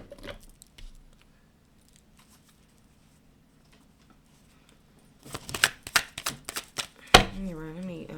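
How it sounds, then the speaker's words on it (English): A deck of tarot cards being shuffled by hand: a quiet stretch with faint low hum, then a burst of rapid riffling and snapping card sounds, ending in a sharp slap, with a voice starting right after. "shuffle it again"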